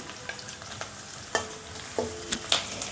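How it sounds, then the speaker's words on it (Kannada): Onion and green chillies frying in oil for carrot chitranna, a soft, steady sizzle punctuated by light metallic taps and clinks of a spatula against the pan. "ಈರುಳ್ಳಿ ಮತ್ತು ಮೆಣಸಿನ್ಕಾಯಿ ಎರಡೂ ಕೂಡ ಚೆನ್ನಾಗಿ ಬೇಯಬೇಕು ಎಣ್ಣೆಯಲ್ಲಿ"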